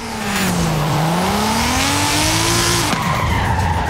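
NASCAR race car in Forza Horizon 5 launching at full throttle, a loud engine whine sweeping up through the gears with tire squeal, then a quick shift near the end.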